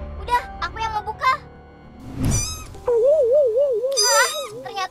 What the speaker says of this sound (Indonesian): Hah, ternyata ini kucing,